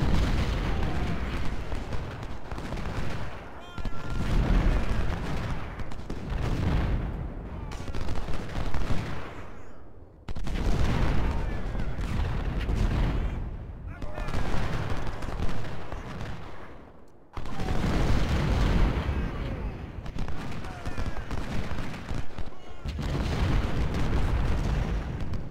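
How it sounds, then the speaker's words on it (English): Artillery guns in Ultimate General: Civil War at Parker's Crossroads fire in loud, repeated salvos of booming cannon shots mixed with crackling musketry, coming in bursts separated by brief lulls. "And my guns are shooting at him."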